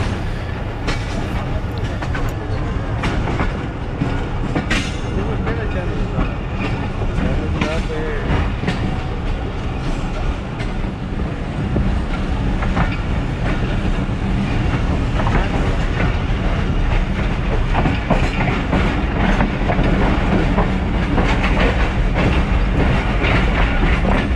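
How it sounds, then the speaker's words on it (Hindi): The 130DN Thal Express train runs from Rawalpindi toward Multan with a loud, continuous rumble and rhythmic clickety-clack of wheels on rails, heard from close by for the whole stretch. "ट्रेन झमट से डिपार्ट कर चुकी है"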